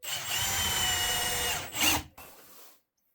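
A power drill drives a Torx screw into a scrap-wood stool leg with a steady whirring buzz for about two seconds, then a brief strained burst before it cuts off.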